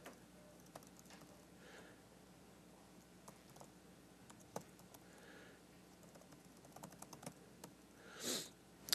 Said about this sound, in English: this whole French keyboard really messing me up